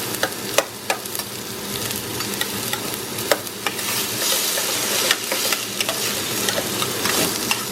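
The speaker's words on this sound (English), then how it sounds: "Move them around so they don't burn and get that olive oil coated" Onions frying in olive oil in a pan hiss and sizzle steadily up close while a utensil stirs them, scraping and tapping the pan in irregular knocks, no talk.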